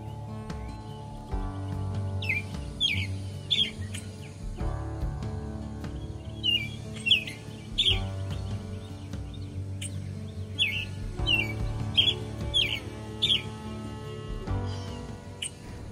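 An American robin calls close by from a tree with short, sharp chirps in small clusters, repeated across the stretch over a soft, sustained musical backing.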